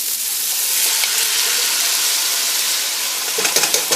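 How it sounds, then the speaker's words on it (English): Diced tomatoes hit a hot pot of Southern-style chili with potatoes, setting off a loud, steady sizzle and hiss that continues throughout, with a few soft clunks near the end. "Actually, I'm going to go ahead and add in my diced tomatoes."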